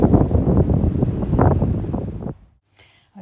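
Strong gusty wind buffets the microphone on a Sussex beach at low tide, a loud roaring rumble for about two seconds that cuts off abruptly into near silence.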